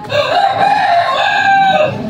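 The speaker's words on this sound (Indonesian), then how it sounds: "Itu ayam siap-siap." A rooster crows loudly and close by, one long drawn-out call that holds steady before trailing off.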